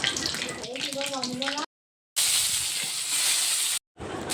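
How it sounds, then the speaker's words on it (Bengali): Bay leaf, dried chilli and chopped onion fry in hot oil in a wok, giving a steady crackling sizzle broken by two short silent gaps, with a voice talking over the first part. "তার মধ্যে তেজপাতা, শুকনো মরিচ আর পেঁয়াজ কুচি দিয়ে দিলাম।"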